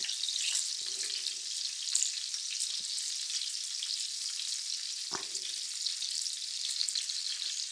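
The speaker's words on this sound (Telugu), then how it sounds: "ఇలా నూనెలో వేసి వేపుకోవాలి ముందు ఇట్లా తిరిగేసుకుంటూ ముందు మెత్తగా అయ్యేటట్టుగా వేపుకోవాలి" Stuffed brinjals, small and tender, frying in oil with a steady close sizzle throughout and a couple of brief stirring knocks.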